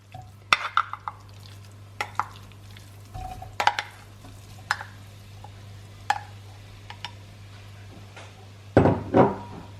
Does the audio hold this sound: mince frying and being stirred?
yes